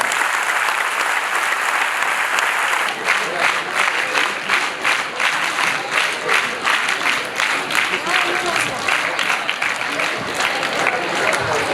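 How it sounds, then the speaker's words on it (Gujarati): An audience at a drug awareness event in Gujarat bursts into applause for a team, dense sustained clapping that fills the room, swelling into a more rhythmic beat partway through and continuing steadily to the end. "બધા એક સાથે તાળી પાડીને આ ટીમને અભિનંદન આપો"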